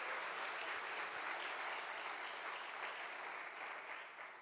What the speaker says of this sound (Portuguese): As palmas para ele, diga glória a Deus.